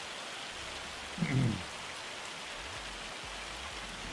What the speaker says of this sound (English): The hail seems a bit small for Asia.